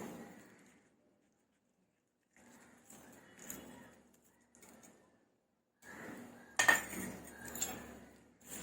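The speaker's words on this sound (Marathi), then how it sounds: "आपण हा तडका फोडणी केली ती आपण त्यामध्ये टाकून घेऊया" Tempering poured into cooled curd rice and stirred in a bowl: soft scraping and clinking of a spoon come in short bursts separated by near-silent gaps, close and fairly quiet, with one sharper clatter near the end.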